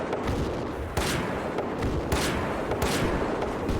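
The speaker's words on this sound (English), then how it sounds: "This airburst grenade launcher." An airburst grenade launcher on a heavy machine gun kit in a free-to-play shooter fires in a dense, loud run of booming shots with overlapping blasts and no break throughout.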